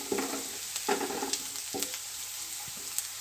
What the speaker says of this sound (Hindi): साथ में मैंने बंद गोभी ली है 1 कप, वो भी ऐड कर देंगे। इसे भी अच्छे से मिक्स करेंगे, 1 मिनट तक पकाएंगे।